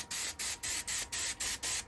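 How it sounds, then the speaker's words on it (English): An airbrush sprays diluted sanding sealer onto a wooden bowl, giving seven short, even bursts of hiss in a quick regular rhythm with brief gaps between them, close and fairly loud. "So I just diluted some right down of my sanding sealer into my air sprayer, my airbrush"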